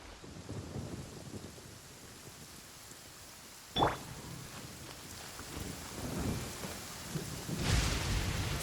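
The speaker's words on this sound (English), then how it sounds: "Did you know that the sound of thunder is the prelude to new life?" Thunderstorm in the video game Genshin Impact, with steady rain hissing throughout. A sharp thunder crack lands midway and a rumbling roll of thunder swells near the end, with no talk.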